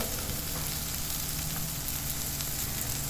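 Spiced vegetables roast on a hot tava over a high flame, giving a dense, continuous sizzle and crackle that stays loud and close throughout, with no voices.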